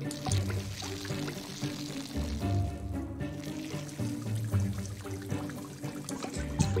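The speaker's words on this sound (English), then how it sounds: "I'm going to water my plants." Water pours steadily as plants are watered in the video game Desperate Housewives: The Game, a continuous trickling splash lasting several seconds over a low background hum, with no speech.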